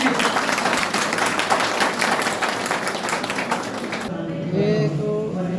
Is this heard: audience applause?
yes